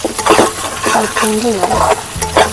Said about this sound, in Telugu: ఎగ్ మంచిగా వేగిన తర్వాత ఆనియన్స్ అవి రెండు కలిపేసుకోవాలి ఇట్లా